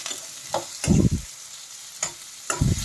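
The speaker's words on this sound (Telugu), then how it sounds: "ఇవన్నీ బాగా ఫ్రై కానిద్దాం." Chopped vegetables fry in oil for a tempering while being stirred, with a few dull scraping bursts from the spoon over a steady sizzle, close up and with no voices.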